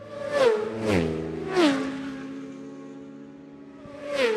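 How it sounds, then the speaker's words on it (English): Three 600cc supersport race motorcycles, a Yamaha, a Ducati and a Triumph, scream past close by in quick succession during a road race, each engine note dropping sharply as it passes, followed by a fourth bike approaching at the end. "Bouncing on the brakes on these 600 machine super sport bikes, the Yamaha, then the Ducati, then the Triumph."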